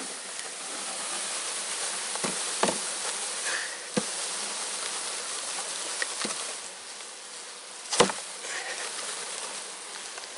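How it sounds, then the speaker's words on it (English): Honeybees being shaken into a hive box buzz in a dense, continuous drone, with a few sharp knocks and taps breaking through now and then. "I can just shake these bees in."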